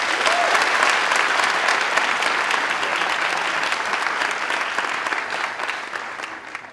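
Loud, dense audience applause at a comedy stand-up show, sustained for several seconds and tapering off slightly toward the end.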